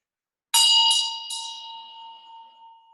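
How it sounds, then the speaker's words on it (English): A meditation bell is struck three times in close succession, bright metallic rings that layer together and then fade into a long, clear humming decay, alone in silence. "Follow the sound of the bell."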